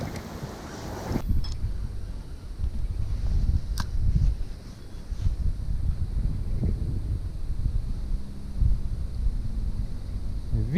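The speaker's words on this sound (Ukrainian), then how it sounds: "вітер прямо на мене" Steady wind buffets the microphone with a continuous low rumble and gusts, loud and close throughout, on a riverbank while fishing on the Sula River.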